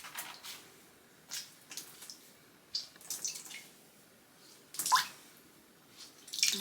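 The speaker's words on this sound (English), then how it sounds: "I'm kind of squeezing water all over my bathroom." Water dripping and splashing onto a bathroom floor or tub as wet hand-dyed yarn is squeezed out, in scattered irregular bursts with quiet gaps, fairly faint and close.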